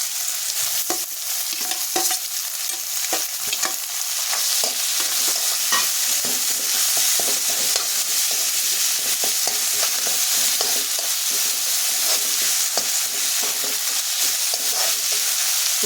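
Soybean curry with garlic paste and tomato frying in a pan, heard as continuous close sizzling broken by frequent scraping, clattering stirs throughout.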